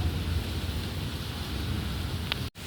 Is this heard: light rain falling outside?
yes